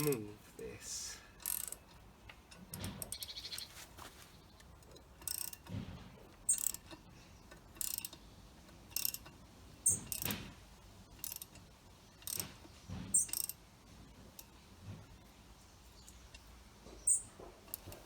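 A mechanical puller being worked to extract a stuck pulley from an old barn-find Lister D engine: intermittent metallic clicks, ratcheting and creaks in irregular bursts, fairly quiet.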